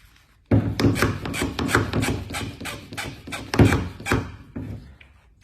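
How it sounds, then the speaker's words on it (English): Hand sanding a metal door by hand before priming: a run of rough, rasping strokes, fairly loud and close, with brief pauses between passes and no talk. "if I need to sand a little bit out here and there"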